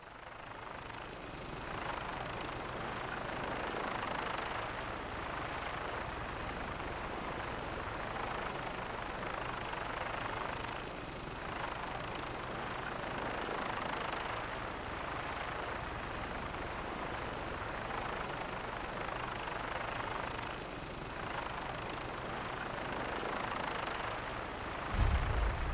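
A vertibird aircraft from Fallout 4 flying, a steady droning rotor and engine roar that holds level for the whole stretch and ends in a brief low thump.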